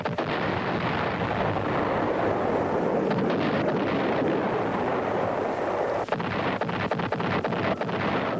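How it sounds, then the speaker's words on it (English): B-52 bombers carry out close-in bombing during the Vietnam War battle for Khe Sanh, a loud, continuous rumbling roar of distant explosions with heavy wind-like noise throughout. "From now on, close-in bombing by B-52s would play a major part in the defense."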